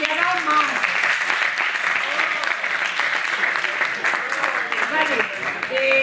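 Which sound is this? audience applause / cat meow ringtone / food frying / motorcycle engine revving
audience applause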